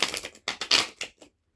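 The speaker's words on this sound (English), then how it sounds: "So I'm going to shuffle the deck" A tarot card deck being shuffled close by, heard as a quick series of crisp riffling bursts with short pauses between them, ending in silence; no voices.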